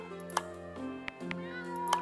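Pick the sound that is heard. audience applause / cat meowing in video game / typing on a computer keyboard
cat meowing in video game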